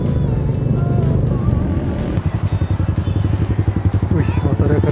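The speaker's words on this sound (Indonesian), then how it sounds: "Wih, motornya keren." Motorcycle passing on a road, a throbbing engine with a rapid pulsing beat that swells nearby under a car's steady road hum, with people talking over it.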